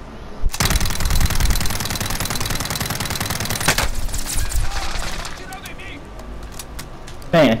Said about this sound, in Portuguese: eles estão dando tiro